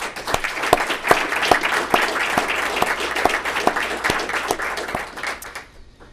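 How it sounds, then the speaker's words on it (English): Audience applause for council members at a Sierra Madre State of the City address, steady dense clapping from a crowd with a few sharp louder claps standing out, fading near the end. "I would like all of you to give them a round of applause"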